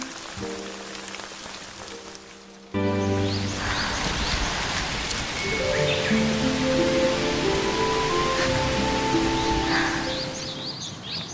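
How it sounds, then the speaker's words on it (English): Steady rain falls on a house, a dense patter of drops that swells loudly after a quieter opening and holds as a continuous wash, with faint bird calls behind it. "It feels like the rain is hugging the house."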